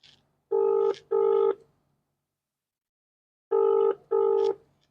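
A phone line rings unanswered: two paired double-ring tones separated by a long silence, clear and close.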